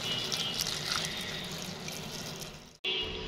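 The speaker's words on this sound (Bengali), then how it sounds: "এখন পানি দিব আলু সফট করার জন্য।" Water pours steadily into a pan of prawns and vegetables with potatoes, a close continuous splashing stream that stops abruptly near the end, leaving a quieter tail.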